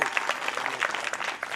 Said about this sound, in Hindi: एक बार पुनः ताली हो,